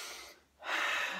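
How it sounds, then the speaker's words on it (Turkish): Loud, close breathing recorded at night by someone lying on their back: a long breathy exhale, a brief pause, then a stronger noisy breath, with no talking. "Böyle biraz fazla sesli nefes alıp veriyorum."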